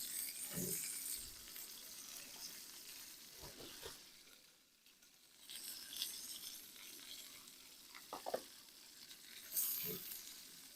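Chopped onion sizzles in a frying pan over an outdoor campfire breakfast, a faint, steady frying hiss with scattered scrapes and taps of stirring and a few quiet pops.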